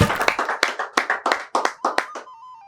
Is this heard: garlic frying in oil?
no